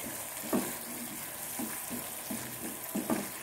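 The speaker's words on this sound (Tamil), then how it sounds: "மறுபடியும் கொதிக்கிட்டோம் கொஞ்சம் நேரம்." Gentle bubbling and sizzling of a thick garlic gravy simmering in a pan, oil separating, with soft irregular pops and no talking.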